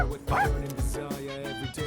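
Koro, the dog in Persona 3 Reload, gives several quick yipping barks and whimpers, close and lively, over game background music.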